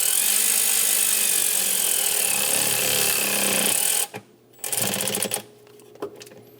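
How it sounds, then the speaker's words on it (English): A hand tool ratchets and tightens an intake hose clamp on a 2003–2026 Chevrolet Express 2500 with the 4.8L engine, giving a steady buzzing mechanical whir for several seconds before it stops, then a few short bursts follow. "Snug down the clamp for the intake."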